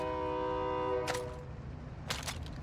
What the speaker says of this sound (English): I just got hit by the train and died.